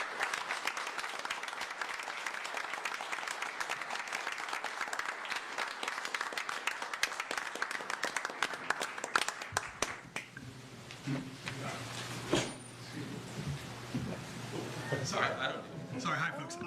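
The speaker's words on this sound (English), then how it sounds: "We'll give them one last round of applause." Audience at a city commission meeting gives a round of applause for a team, steady clapping for about nine seconds that then thins to scattered claps as a voice starts talking over the room.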